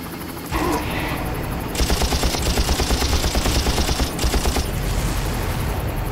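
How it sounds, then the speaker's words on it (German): Helicopter and gunfire in the video game Far Cry: rapid, loud bursts of automatic fire rattle over a constant roaring drone, with the shooting starting and stopping in steady pulses. "Ja, vorne ist der Hubschrauber."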